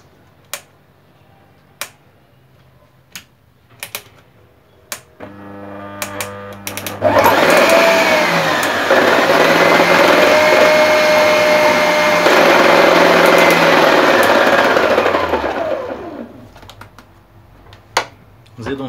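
A repaired electric dough mixer's motor runs on test: scattered clicks and taps first, then the motor whirs up loud and steady for about eight seconds before winding down, followed by more clicks.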